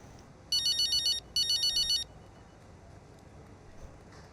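A phone rings in F1 25 Braking Point: two bright, trilling electronic ring bursts, each under a second long, separated by a short gap and followed by quiet.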